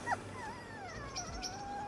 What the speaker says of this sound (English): We have a little tiny puppy. It's a little Chihuahua. You can hear it whining.